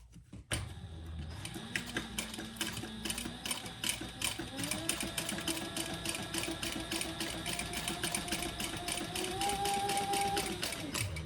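A sewing machine topstitches an eighth-inch seam along the side of a crossbody bag. It runs steadily for most of the span with a fast, continuous mechanical rattle and a motor whine that climbs in pitch.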